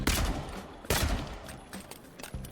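Gunfire in the fantasy RPG Avowed, with two heavy blasts about a second apart followed by smaller scattered shots and thuds, moderately loud and with no voices.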